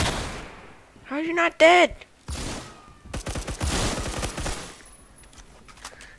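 Shotgun blasts from a first-person shooter game, a few sharp bursts separated by gaps, with a voice speaking loudly in between and over the firing.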